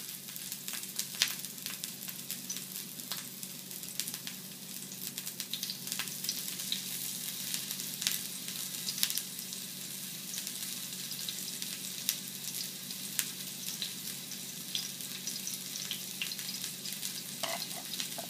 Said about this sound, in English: I'm just going to move it around and kind of caramelize